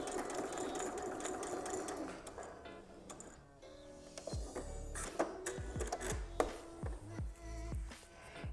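A sewing machine runs a straight half-inch plain seam, its motor whirring steadily up close before breaking into a looser pattern of clatters and thumps near the end.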